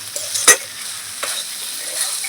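Soft potato curry being stir-fried in a pan, a low sizzle with a sharp spatula knock near the start and a couple of lighter scrapes after, close and quiet.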